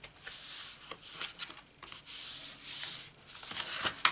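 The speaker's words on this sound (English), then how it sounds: "And then I rub it with my bone folder." A bone folder rubbing over double-sided red liner tape on card, soft repeated dry scraping strokes, close and quiet, with no talking.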